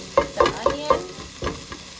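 Chopped onion sizzles steadily in hot oil in a pot while a utensil scrapes and stirs in several irregular strokes, close by and moderately loud.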